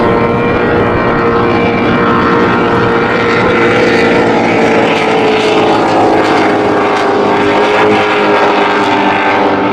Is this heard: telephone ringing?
no